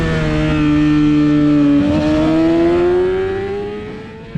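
A motorcycle races around the Podium Club track, its engine droning loud and close at high revs, the pitch dipping briefly at a gear change and then climbing steadily as it accelerates before the sound eases slightly.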